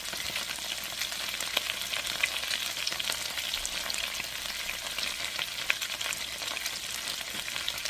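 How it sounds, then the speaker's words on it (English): Pork and apples bubble and sizzle steadily in a skillet for Southern pork and apples, a constant close hiss with faint crackles and no voices throughout. "I'm going to let this simmer for about 15 minutes"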